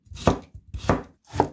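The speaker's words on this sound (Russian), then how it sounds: "Огурец нарезаем. Сначала на пластинки," A knife slices a cucumber into thin plates on a cutting board, three firm, evenly spaced chops landing close and crisp with no voices.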